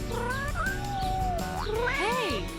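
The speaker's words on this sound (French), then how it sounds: "Pendant ce temps, Kissy Missy joue avec les chatons qu'elle a volés." Several kittens in a Barbie cartoon mew in a quick run of high, sliding cries that overlap, close and clear, over a soft background.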